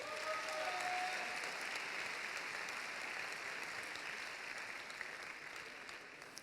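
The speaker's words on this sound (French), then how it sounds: "je vous demande d'applaudir très fort Jérôme Delimel" Steady, dense applause fills a graduation ceremony hall, the clapping of a large audience holding an even level throughout.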